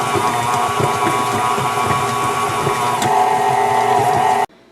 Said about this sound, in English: I'm using a different type of hook because the whisk is not really good to mix in chocolate chips